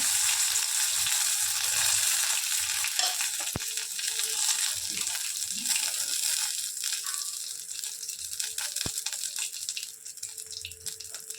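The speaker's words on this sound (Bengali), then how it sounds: "এই তেলটুকুনি নিয়েছি এবার এর মধ্যে কারি পাতা শুকনো লঙ্কাটা দিয়ে দিলাম" Curry leaves and dried chillies fry in hot oil for chicken 65, giving a steady, close sizzle with a couple of sharp pops and light stirring sounds. There is no talking.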